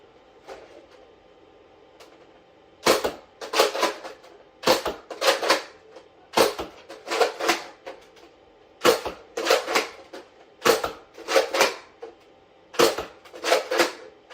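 A Nerf N-Strike Recon CS-6 blaster firing waffle-head style foam darts, with sharp plastic clacks of priming and firing in quick bursts of two or three, close and clear over quiet background.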